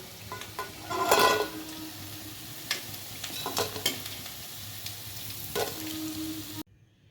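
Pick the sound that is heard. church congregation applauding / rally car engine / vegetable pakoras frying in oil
vegetable pakoras frying in oil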